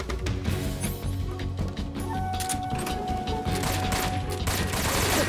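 Video game gunfire in Metal Gear Solid 3 Snake Eater, rapid bursts of shots and crashes mixed with mechanical game effects and music, dense and continuous at close range.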